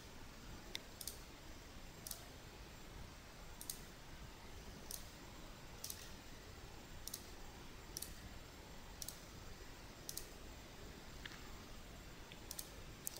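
Sparse, faint mouse clicks come at irregular intervals, a dozen or so, during 3D modelling work on a PS Vita model, with cutting along an elliptical guide. A steady low hiss lies underneath and no one speaks.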